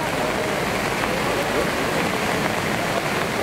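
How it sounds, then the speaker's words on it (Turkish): Dense, steady hiss of heavy rain pouring down during flooding in Cumayeri, Düzce, a continuous broadband wash with no pauses, loud and close throughout. "Bence coştu yağmur."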